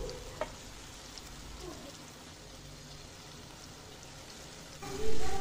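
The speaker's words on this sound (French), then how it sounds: "Je vais faire revenir ces ingrédients, les oignons, jusqu'à ce qu'ils deviennent caramélisés" Onions frying in a pan with cinnamon sticks, salt and pepper make a soft, continuous crackling sizzle with a few faint stirring taps and a louder clatter at the very end.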